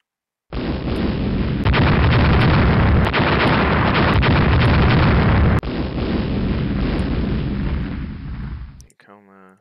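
Torpedo explosions and naval gunfire in the game Rule the Waves, a loud sustained roar of blasts and booms with sharp bursts layered in, ending abruptly before a short tail.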